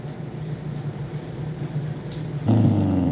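A dog growls low and steadily over a food treat it wants to keep, with a louder, deeper growl near the end.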